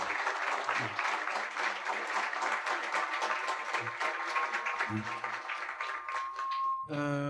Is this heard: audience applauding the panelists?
yes